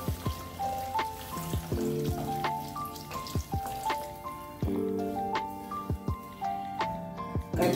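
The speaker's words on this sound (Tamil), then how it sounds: "தண்ணி சேர்த்து" Water poured into a fish curry masala mix in a South Indian kitchen, giving scattered drips and small splashes with tonal clinks of a pan or utensil throughout, close and moderately loud, no talk.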